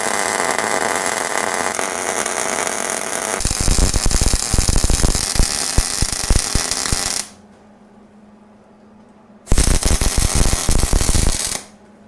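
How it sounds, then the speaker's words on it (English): Arc welding on a steel stump bucket attachment for a Bobcat 743 loader, a loud steady crackling hiss that shifts into sharper sputtering, stops for about two seconds, then resumes for a final bead before cutting off. "I think I'm just gonna weld it solid on both sides here."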